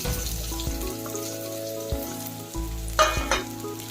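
Chopped carrot, onion, green chili and capsicum fry in hot oil for an egg roll, a steady close sizzle with a few stirring scrapes and a sharper crackle burst near the end.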